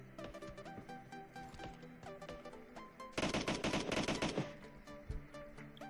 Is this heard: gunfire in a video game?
yes